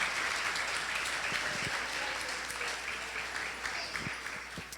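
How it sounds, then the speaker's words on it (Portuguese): A church congregation at an evening prayer conference applauds in a dense, sustained wash of clapping with no talking over it. The applause holds steady, then eases slightly toward the end. "Você pode aplaudir o Senhor Jesus por eles?"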